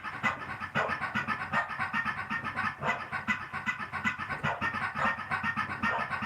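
A dog pants rapidly and steadily in a played recording, a continuous breathy huffing rhythm that fills the whole stretch with no talking over it.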